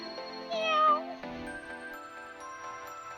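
In the video game Hustle Cat, a cat gives a couple of drawn-out meows over soft background music and a low speaking voice, and a brief sharp click comes at the very end.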